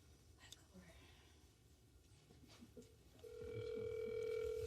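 A phone call on speakerphone produces a steady ringing tone that starts partway through and holds to the end, fairly faint, after quiet murmured talk.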